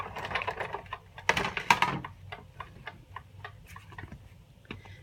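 A Stampin' Up Big Shot die-cutting machine is cranked by hand, producing a quick run of rhythmic ticking clicks that grows louder early on, then tapers into softer, spaced clicks.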